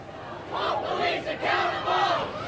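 Angry protest crowd in Kalamazoo roaring and shouting at arriving riot police, a dense, loud wall of voices that surges in waves and never breaks across the whole stretch.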